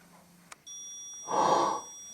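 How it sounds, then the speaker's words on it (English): An electronic alarm sounds during a ghost hunt inside a mansion: a single click, then a steady high-pitched tonal beep that holds for over a second, with a louder whooshing swell in the middle. "Spirit, can you make the alarm go off again, please?"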